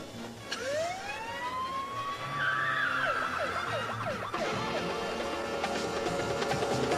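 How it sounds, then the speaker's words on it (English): A police siren wails and rises in pitch, then switches to a fast warbling yelp, loud and continuous over a low traffic rumble. "Shirley, we don't need the sirens."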